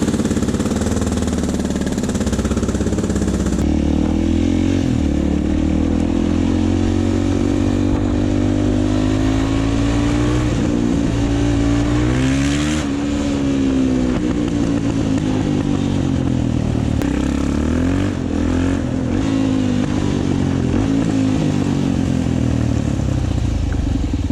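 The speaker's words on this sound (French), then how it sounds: "on va aller en moto" A Suzuki DRZ motorcycle engine runs continuously and loudly, its pitch rising and falling as it accelerates and eases off during a ride.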